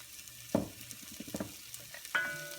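Garlic, ginger, red pepper flakes and cumin frying in a pot for sweet potato soup, a short quiet sizzle broken by a couple of spoon scrapes and a knock against the pan.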